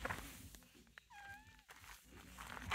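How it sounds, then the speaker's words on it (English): A pet cat gives a short, rising meow amid light background noise and faint indoor sounds, close to the listener and moderately quiet. "Battle Axe the cat."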